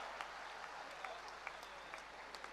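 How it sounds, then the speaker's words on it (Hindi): Faint audience applause at a public event, a soft continuous patter of distant clapping with a few sharper individual claps standing out. "सारा दिन तालियां बजाते रहेंगे आप।"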